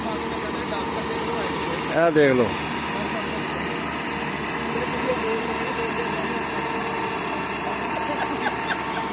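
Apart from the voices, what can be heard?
tractor engine straining to get unstuck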